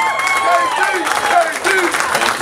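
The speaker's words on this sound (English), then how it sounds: "everybody give us a big round of applause for Reverend Kenneth Whalum Jr." Crowd at a congressional campaign headquarters grand opening greeting a reverend with loud, sustained applause mixed with whoops and cheering voices, busy and close throughout.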